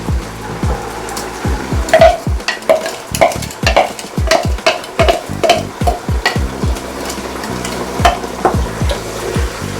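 Garlic, ginger, onion and pepper cook in a pot for a party waakye stew, with steady sizzling and frequent loud stirring scrapes and knocks in an irregular rhythm, close by, with no talk.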